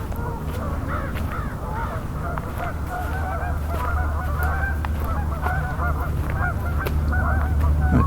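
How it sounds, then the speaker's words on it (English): A large flock of Canada geese honks continuously outdoors, with a crow cawing in the mix and steady low background rumble. "A crow, lots of Canada geese."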